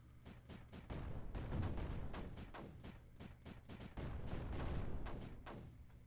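Mortars fire repeatedly in the Creeper World 4 strategy game, a dense run of overlapping thumps and booms with a steady, loud rumble of shots and no talking.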